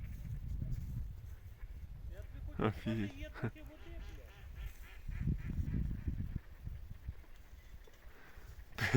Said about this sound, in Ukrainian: Ціла куча диких качок.